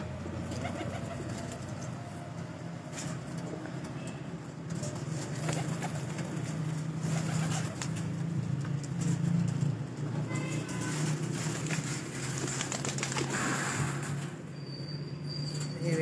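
Pigeons cooing on a rooftop loft, soft low repeated coos blending with steady outdoor ambience and a faint distant hum of traffic, no voices.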